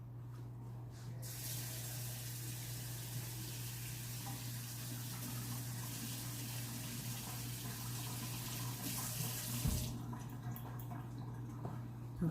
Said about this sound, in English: I'm going to rinse this one with the warm water right quick